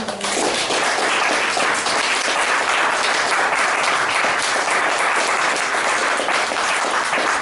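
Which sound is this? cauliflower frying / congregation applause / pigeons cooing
congregation applause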